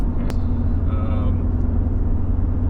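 Third-generation Toyota Tacoma with a manual transmission climbs a hill in sixth gear: a steady, close, low engine and road drone fills the cabin, unbroken throughout.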